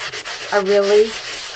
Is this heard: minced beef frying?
no